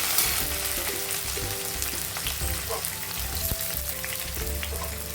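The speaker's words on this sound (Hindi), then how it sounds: "अभी हम ऐड कर देते हैं ऑनियन। ऑनियन को हल्का ब्राउन करना है।" Onion and garlic fry in a pan for Malwani chicken curry, a loud, continuous close sizzle with crackling spatters and occasional scraping clicks, no voices over it.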